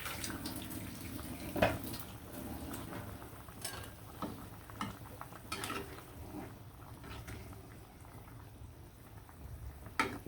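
Hilsa fish and tomato curry with coriander leaves simmers in a pot, a faint, steady bubbling with occasional soft clinks and stirring knocks.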